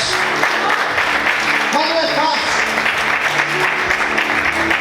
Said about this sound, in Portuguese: Você pode aplaudir o Senhor, glória a Deus.